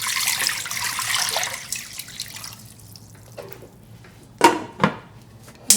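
Water pours and splashes into a container for a couple of seconds, then fades, followed by a few sharp metallic clinks of a pot.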